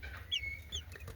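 Newly hatched chicks fresh from an incubator give a few high, faint peeps, two short chirps in about a second, over a low steady hum.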